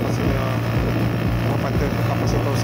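A split-type air conditioner's outdoor condenser fan runs steadily with a loud, even whirring drone and low hum, close to the microphone and constant throughout.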